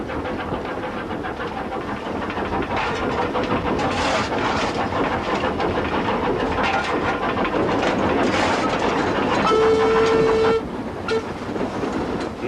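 An Isle of Wight Steam Railway train runs through the countryside near Haven Street, its wheels clattering in a steady rhythm, with a short whistle tone toward the end.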